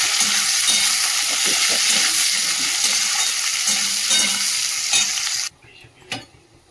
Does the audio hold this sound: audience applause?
no